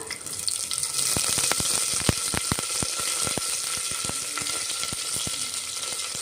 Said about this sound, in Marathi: आता लसूण टाकतोय कट केलेला दहा बारा पाकड्या घेतल्या आहेत लसणाच्या